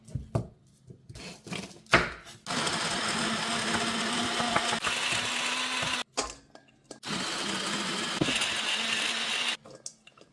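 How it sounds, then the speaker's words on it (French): An electric food chopper whirs loudly in two sustained bursts of several seconds each, mincing ingredients for a home-cooked dish, with short pauses and clicks between runs. "si vous avez comme nous un appareil qui sert à émincer, vous prenez pas la tête, vous mettez directement tout dedans et on appuie sur le bouton"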